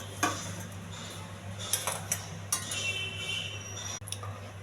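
Cooked mushroom curry being moved from a pot into a bowl, with a few close metallic clinks and scrapes of a spoon against the pot over a low steady hum, no talking.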